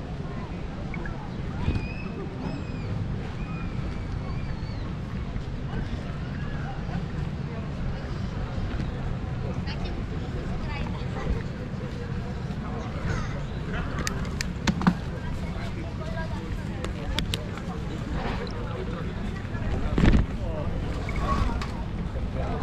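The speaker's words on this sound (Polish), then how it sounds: "Trochę wieje dzisiaj." Steady wind rushes and buffets a microphone while cycling along the Baltic coast in summer, a constant low roar filling the whole stretch with occasional gusts and bumps, and a voice briefly talking over it.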